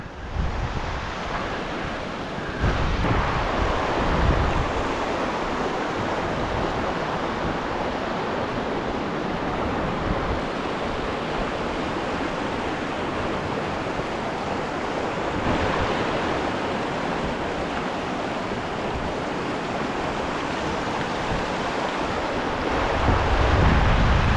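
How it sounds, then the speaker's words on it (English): Big waterfalls along the Loowit Trail around Mount Saint Helens roar as a loud, steady wash of rushing water that carries on unbroken throughout. Wind buffets the microphone at times, and no one speaks. "Look at those big waterfalls."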